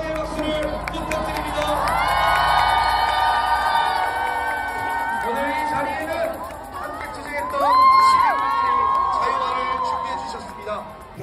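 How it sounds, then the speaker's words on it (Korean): Crowd cheering in the street at a winter protest in Namtaeryeong, with shouts, whoops and chatter from many people rising and falling around a nearby voice, swelling to a louder burst partway through. "거리에서 환호가 터지기도"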